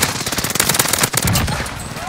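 Loud, rapid automatic gunfire in a shooter video game on the Caldera map, a dense burst of shots rattling close and continuous for about two seconds.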